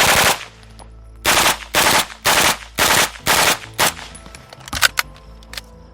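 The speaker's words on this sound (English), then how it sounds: "So we're going to go ahead and give the old Half-Life try as 3-round bursts with their MP5s." An MP5 submachine gun fires about six quick bursts in a row, close and loud, each a tight rattle of several rounds. A few scattered sharper clicks and pops follow the last burst.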